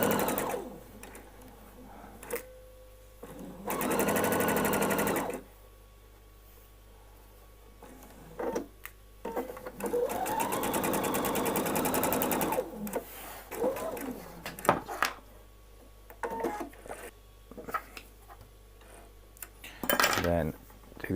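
A domestic sewing machine straight stitches and back stitches along a dress seam, with two sustained whirring runs separated by pauses filled with small clicks and handling noises, close and moderately loud.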